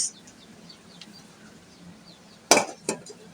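A metal cooking pot set down on a stove: two quick, close clanks a moment apart, the first louder, over a quiet room background with faint birdsong.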